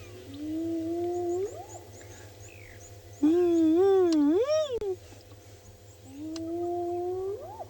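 Loud, close hyena whoops rise in pitch, one after another with short gaps, ringing out over a constant low engine-like drone.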